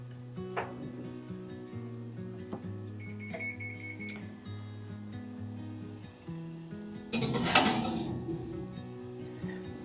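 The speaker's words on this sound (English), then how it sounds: "That beep you just heard is my oven telling me it's preheated." An electronic beep sounds twice over a steady background hum, followed later by a brief burst of clattering noise.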